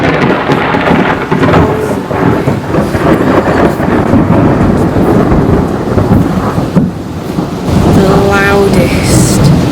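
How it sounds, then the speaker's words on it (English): Loud thunderstorm in Sorrento, heavy rain pouring and a deep rumbling roll of thunder filling the whole stretch, close and powerful, with a faint voice near the end. "that is probably the loudest lightning and thunder I have ever heard"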